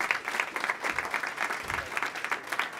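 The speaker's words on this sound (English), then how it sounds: "Applause to all of our sponsors and collaborators." Moderate applause from a conference audience at a MedTech Boston Google Glass event, a steady clatter of many hands with faint murmuring underneath, running for just under three seconds.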